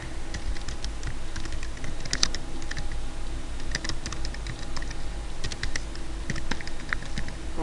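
Computer keyboard typing while filling in an online form, a continuous patter of quick key clicks close up with short pauses, no talking.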